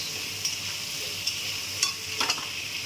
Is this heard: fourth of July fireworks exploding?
no